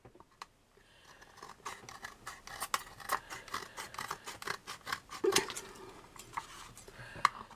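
Scissors snipping around a round cover for a cake stand turntable, with many close, crisp cuts in an uneven rhythm and faint rustling of the material between them, without any talking.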